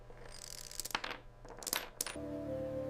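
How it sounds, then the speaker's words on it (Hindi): Inside a coin factory machine, a metal coin spins with a run of bright, ringing clinks and rattles, then settles as a steady mechanical hum takes over. "घूमता हुआ सिक्का उसकी सटीक बनावट और संतुलन को दर्शाता है।"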